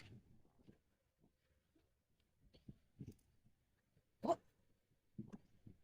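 A large dog barks a few times at mid distance on a farm, short sharp yelps separated by quiet gaps, with faint outdoor background noise.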